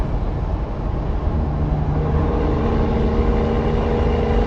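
A Kenworth W900 truck's engine rumbles nearby with a heavy, steady low drone and a faint tonal hum rising partway through.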